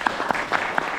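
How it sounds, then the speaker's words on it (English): A brief burst of audience applause at a Toastmasters-style club meeting, with scattered claps at close to moderate distance and no voices over it. "Round of applause."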